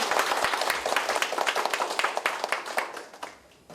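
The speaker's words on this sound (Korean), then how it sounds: "뜨거운 박수로 환영 부탁드립니다" An audience at a Seoul city council policy forum on drug abuse prevention claps to welcome the council vice-chairman. The applause is dense and steady at first, then thins and fades toward the end.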